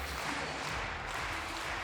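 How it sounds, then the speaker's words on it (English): A steady wash of crowd applause at a handball match, the EHF Euro 2014 Croatia vs Spain third-place game, dense and even, like a large arena audience clapping from a distance without any clear voices. "Applause from the crowd."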